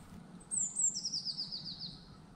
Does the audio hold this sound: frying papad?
no